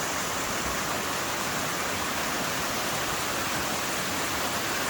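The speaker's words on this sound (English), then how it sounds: "here's a little creek." A small mountain creek on a hiking trail between Copper Mountain and Cataract Creek, a steady broadband rush of flowing water, close and loud, without talking.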